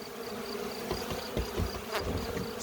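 A swarm of honeybees buzzes in a dense, steady hum, faint and close, with a few knocks as the bees are poured into a hive.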